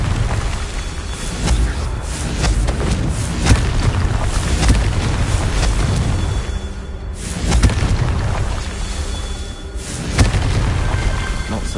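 Hogwarts Legacy video game battle with the Confringo fire spell, a dense rumbling run of loud booming explosions and bursts layered continuously, with brief dips between heavy blasts.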